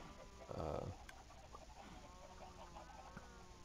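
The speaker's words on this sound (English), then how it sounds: "There's about 35 chickens up there." In a Minecraft chicken farm holding about 35 chickens, one short, faint cluck sounds near the start, then only quiet ambience follows.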